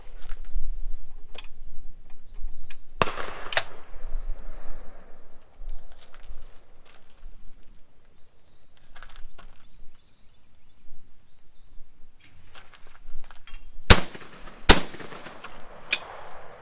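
Caesar Guerini 20 gauge shotgun fired at a sporting clays course: a sharp report near three seconds, then a close pair of loud blasts around fourteen and fifteen seconds and a lighter crack later, with quiet outdoor air between them.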